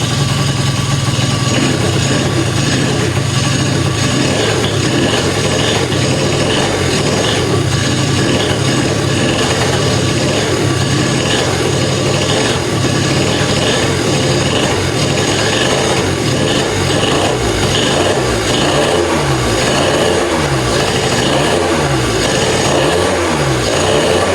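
A 2005 Yamaha Zuma scooter fitted with a cheap big bore kit runs on a dyno, its small engine droning steadily and loudly throughout with rough, uneven revving on a 100 main jet.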